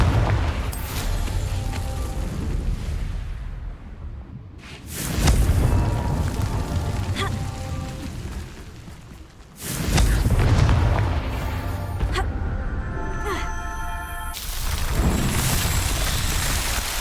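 Booming spell explosions from the Confringo curse in Hogwarts Legacy, three heavy loud blasts a few seconds apart, each with a rumbling, crackling tail of debris amid rocky surroundings.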